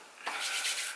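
Palms rubbing together with a small dab of Palmer's coconut oil for smoothing short hair, a close, soft, steady swishing friction lasting about a second with no talk.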